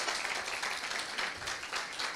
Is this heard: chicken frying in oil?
no